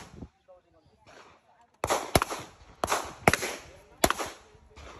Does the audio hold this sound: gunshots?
yes